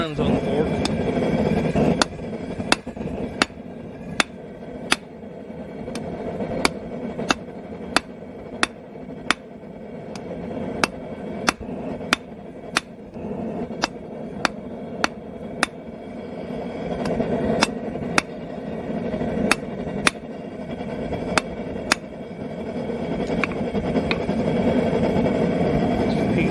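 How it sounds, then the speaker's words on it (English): Steel being hammer-forged on an anvil while a blacksmith draws a taper for the tines of a BBQ fork: sharp, ringing hammer strikes in an irregular rhythm over a steady forge-blower hum, close and loud. "bring this down to a point, and then drawing a taper out for the tines on the fork."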